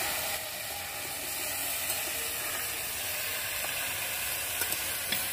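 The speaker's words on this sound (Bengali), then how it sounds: "সব রকম সবজি দিয়ে ভালো করে নেড়ে নেব পাঁচমিশালি তরকারিটা।" Mixed vegetables with eggplant being stirred in a pan for a Bengali panchmishali torkari give a quiet, steady sizzling hiss, with faint occasional taps from the utensil.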